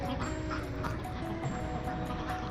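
Ducks on a duck farm playing in water, quacking nearby over a constant background wash of splashing and outdoor noise, in a short burst of calls.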